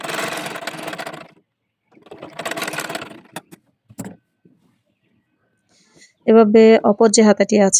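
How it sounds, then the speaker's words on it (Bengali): A sewing machine stitches the sleeve of a cotton gauze baby dress in two short, steady bursts of close whirring, followed by someone speaking. "অপর হাতার অংশকেও একইভাবে সেলাই করছি।"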